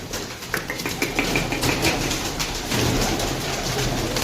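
Pigeons coo close by in a loft, soft repeated calls layered over a steady background rumble for a few seconds, with no talking.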